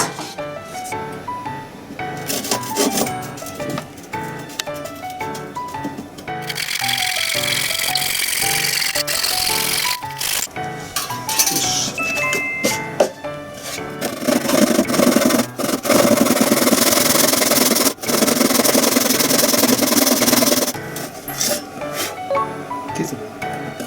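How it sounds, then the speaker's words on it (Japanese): Hand saw cutting a wooden board for a DIY shelf in a public housing apartment, a steady rasping back-and-forth stroke that comes and goes over about twenty seconds, with a brief voice between cuts. "じゃあこれを切るんですが、はい、どちらが切りますか？"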